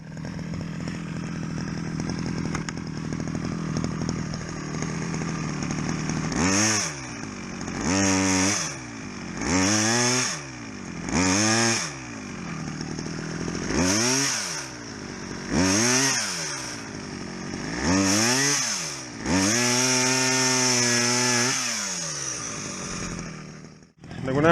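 A 1985 Sachs-Dolmar 108 chainsaw cuts through wood, loud and close, with a steady idle broken by repeated full-throttle revs that rise and fall in a regular rhythm over about a dozen bursts.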